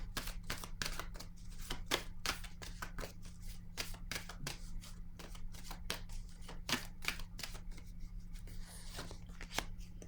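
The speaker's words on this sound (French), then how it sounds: "je vais piger une autre carte ici" Tarot cards shuffled and drawn from a deck during a reading, a close, steady run of crisp riffling and sliding snaps repeating for several seconds over a constant low hum, with no talking.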